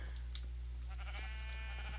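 Sheep bleat in the video game Minecraft during a capture-the-flag match, several short nasal calls overlapping at close range over a steady low game hum, with no talk.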